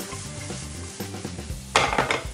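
Chopped vegetables for bolognese sauce sizzle steadily in a pan while a utensil scrapes and stirs, with a few sharper clatters near the end.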